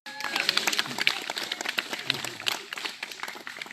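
Applause and clapping from an audience at a church youth retreat, a dense, steady patter of many hands lasting the whole stretch, with voices mixed in.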